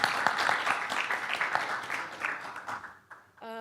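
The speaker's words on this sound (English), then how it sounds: "Can we give another very well-deserved round of applause to our panelists" A conference audience at a marketing event in Dubai applauds its panelists with a dense, steady wash of many hands clapping, fairly close, thinning out and fading to near silence at the end.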